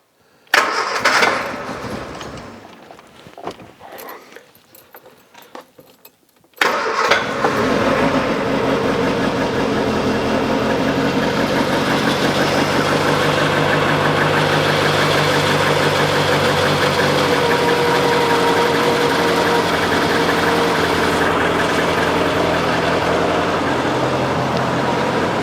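A car engine cranks from a dead 12-volt battery drained to 6.5 volts, struggling and sputtering before catching, then settles into a steady, loud idle that runs on without talk.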